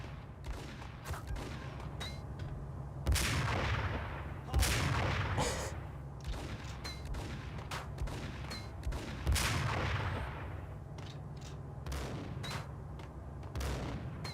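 Scoped sniper rifle shots in the Max Payne shooter, several loud sharp reports at irregular intervals with booming tails, set over a steady low game rumble and background noise.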